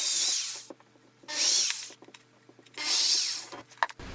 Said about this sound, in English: I drilled a couple of pilot holes